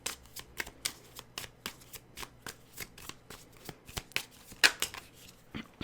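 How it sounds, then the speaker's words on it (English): Tarot cards are shuffled close up in a quiet room, with a rapid series of crisp riffling slaps and soft flicks that come in irregular bursts of varying loudness. "So I'm going to take some cards here."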